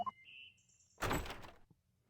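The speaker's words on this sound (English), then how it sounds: "Open the door." In the Ace Attorney video game, a door opens with a single dull thunk and a short scraping rush, preceded by a couple of bright electronic chime tones; no voices.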